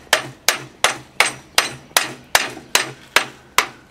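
A hand hammer strikes glancing blows around the edges of a hot metal punch during forging, ten sharp evenly spaced ringing hits, close and loud, with no talk.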